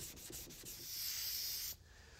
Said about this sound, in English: Once the filler's dry, block sand it using progressively finer grits.